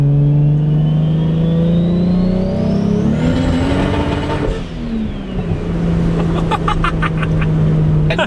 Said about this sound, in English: There's absolutely nothing ricer about spooling up a turbo in a Supra.